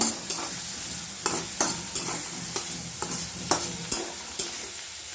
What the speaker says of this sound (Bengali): এখানে পেঁয়াজগুলো দিয়ে দিয়েছি ভাজতে।